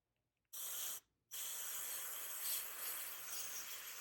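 Airbrush fed by a compressor set to about 10 psi, spraying paint on a figure model: two sharp bursts of airy hiss, a brief one then a longer steady one after a short pause, close and clear.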